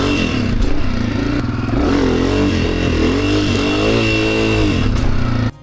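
Close, loud motorcycle engine revving through a wheelie, a continuous roar with pitch swells, light clatter and scraping mixed in, ending abruptly.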